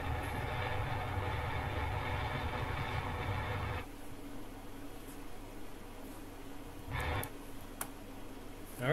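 A spacecraft's rocket engine in a video game gives a steady, loud roar that drops to a lower, quieter rumble partway through, with a few faint clicks afterward.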